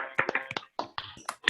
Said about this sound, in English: Let us give a big clap.